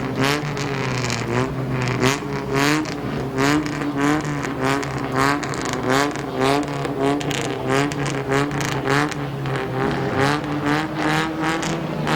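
Race cars lap a dirt oval at Midvale Speedway, engines droning loud and steady with repeated rising and falling surges as cars circle past, close to the track.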